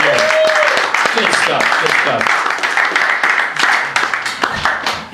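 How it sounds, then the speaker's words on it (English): Audience applause for a comedian at an open mic night, with scattered clapping from a small crowd under a host's loud voice talking over it throughout. "One more time for Ramon, everybody. Clap it up for Ramon."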